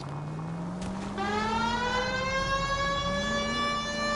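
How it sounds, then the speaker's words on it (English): A police car siren in the game L.A. Noire wails steadily, rising and falling in a loud sustained tone over a low engine hum. "We've got a siren for a reason, you know."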